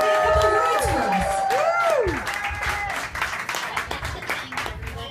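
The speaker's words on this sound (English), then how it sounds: "Everybody give a round of applause for our author, Karen." An audience at an evening book event applauds and cheers for an author's first book, with whooping and tonal sweeps on top for the first two seconds before the clapping thins out and softens.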